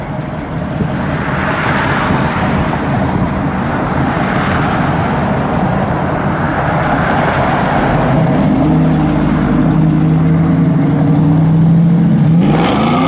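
A 1967 Pontiac Firebird with a 400 V8 rumbling close by through its exhaust, a loud steady idle that swells into revs near the end as the engine pitch climbs.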